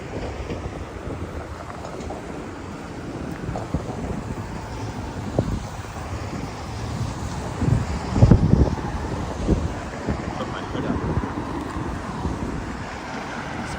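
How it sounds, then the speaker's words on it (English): Strong wind gusts roar across the microphone on a cold winter street at Broadview near the Prince Edward Viaduct in Toronto, a steady low rumbling buffet that surges louder midway, with no talking. "now the wind is just blasting at Broadview"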